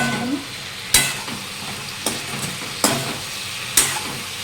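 Spices with coriander powder, ginger paste and a pinch of sugar frying for a taro curry, a steady sizzle broken by four sharp spatula scrapes against the pan, close and fairly loud, no speech.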